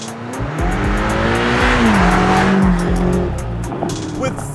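A BMW XM plug-in hybrid driven hard, its engine roaring loud and close with rising and falling revs and a tire squeal, under a faint voice.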